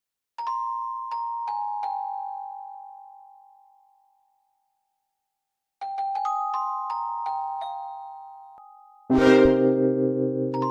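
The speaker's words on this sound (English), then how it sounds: "Then I went back to Xpand again and I grabbed this Celeste." A celeste plays gentle, bell-like melodic notes that ring and fade, then pauses and returns with a second phrase ending in a fuller, sustained chord.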